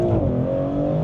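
A 2025 Maserati GranTurismo accelerates hard in Corsa mode, its engine note loud and steady with rising harmonic tones heard from inside the cabin.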